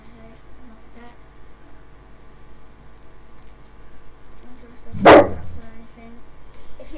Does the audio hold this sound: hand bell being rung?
no